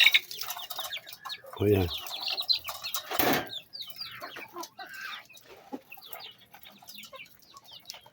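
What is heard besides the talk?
Rhode Island Red chickens clucking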